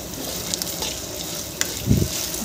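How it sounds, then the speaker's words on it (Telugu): Potatoes and small-cut carrot pieces frying together in a pan for vegetable fried rice, a continuous close hiss with a soft bump of a spoon near the end. "ఆలు ఫ్రై అయిన తర్వాత ఆలుతో పాటు మనం ఉడకవు కాబట్టి చిన్న ముక్కలుగా కట్ చేసుకున్న క్యారెట్ కూడా వేసుకొని వీటితో పాటు ఫ్రై చేయాలి"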